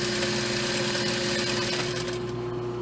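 Sewing machine running steadily while topstitching along the upper edge of a fabric skirt, a continuous close mechanical hum and whir with no pauses or voices.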